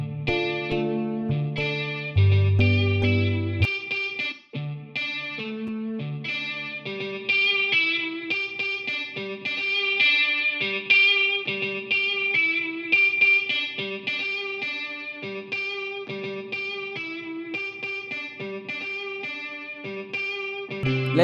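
Plucked electric guitar melody in FL Studio, run through an EQ sweep to find and cut a resonant frequency, playing steady single notes and short phrases over a low held bass, with effects coloring the tone and no talking.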